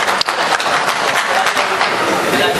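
An audience at a poetry gathering gives a dense, sustained burst of applause to welcome a poet, loud and continuous, with many hands clapping together.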